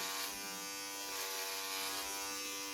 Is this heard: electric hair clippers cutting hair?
yes